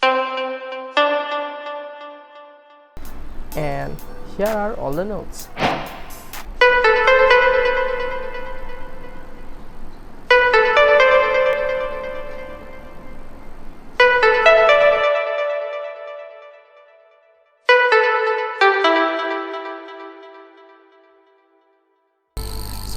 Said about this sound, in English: So that was how the bell sounds.